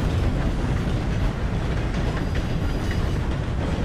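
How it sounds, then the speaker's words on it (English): A steam train rolls past in the video game Red Dead Redemption 2, producing a loud, dense, continuous rumble with faint rhythmic rail clatter throughout. "Look at that train, though."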